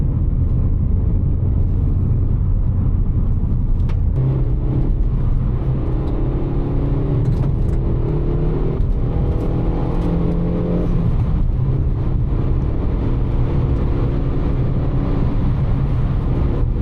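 A Suzuki Swift Sport's engine drones steadily while driving, rising and dipping as it is taken through city gear changes, close and loud throughout with no talk.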